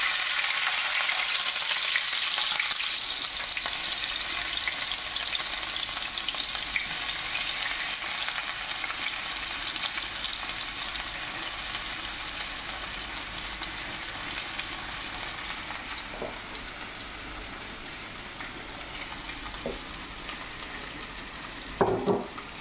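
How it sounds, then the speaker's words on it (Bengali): Onions fry in oil in a frying pan on an electric cooker in a UK home kitchen, a continuous close hiss and crackle that slowly eases, with a couple of faint utensil knocks toward the end. "এবারে পেঁয়াজগুলো ভেজে নেব, তার জন্য আমরা ফ্রাই প্যানে তেল দিয়ে দিচ্ছি।"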